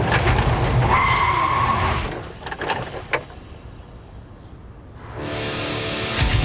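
A car brakes hard to a stop, tires skidding and squealing loudly for about two seconds before the noise fades, then an engine rises again; a brief thump mid-stop.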